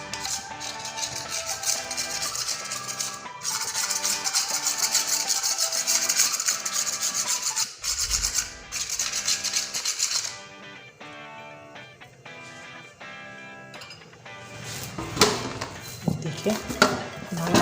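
Hands knead and punch wheat flour dough in a bowl, giving rhythmic rubbing, pressing and thumping sounds up close, with a few harder knocks later.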